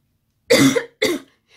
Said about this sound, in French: donc c'est vrai que je tousse.